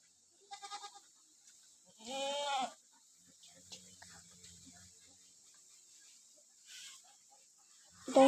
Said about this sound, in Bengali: এইটা আমাদের রাম ছাগল।